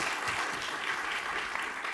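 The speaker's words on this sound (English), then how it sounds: "we can, of course, receive him with a round of applause" Conference audience at a knowledge week event applauding to welcome a speaker, a short burst of dense steady clapping filling the room.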